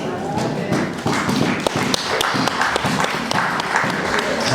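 Church congregation at a sermon breaking into applause and cheers, busy clapping mixed with thumps and taps and raised voices, loud and close, continuing unevenly for several seconds.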